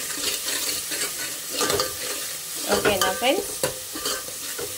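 Ginger paste fries in hot oil for a spicy chicken curry, a continuous sizzle broken by scraping stirs of a spoon in the pan, with a short spoken remark partway through.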